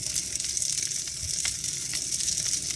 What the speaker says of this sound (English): So we're going to start cooking the mushrooms in the bone marrow